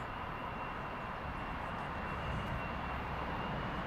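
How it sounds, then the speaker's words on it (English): CityJet CRJ-900 regional jet taking off at Frankfurt airport, heard as a steady, fairly distant broadband engine roar with a faint high whine, continuous throughout. "We'll stay with the takeoff. We'll stay with the CRJ-9."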